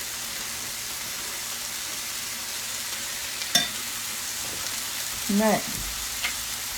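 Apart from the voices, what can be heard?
stirring ground beef frying in a pan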